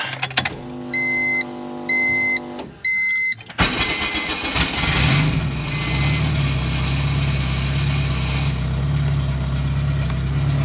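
An AWD Civic's engine cranks and catches after a few electronic chimes, then settles into a steady, loud idle close by with a rising rev.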